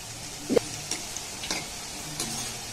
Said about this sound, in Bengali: গ্যাসের ফ্লেমটাকে লো রেখে এবার এটাকে আমি একটু হালকা লাল লাল করে ভেজে নেব